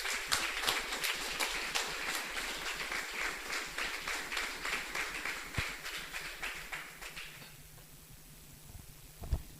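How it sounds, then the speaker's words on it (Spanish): A church congregation applauds after a sermon, with rhythmic, fairly distant clapping that holds steady for several seconds, then thins and fades out. "Denle un fuerte aplauso."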